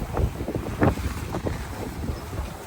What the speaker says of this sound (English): Nice wind, about 15 knots.